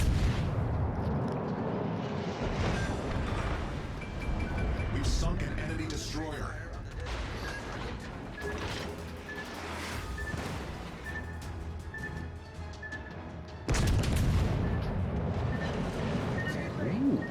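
Naval gunfire from the premium cruiser Azuma in World of Warships Legends, heavy booming salvos and rumbling impacts rolling through a continuous battle din, with a loud fresh blast near the end and a voice talking over it.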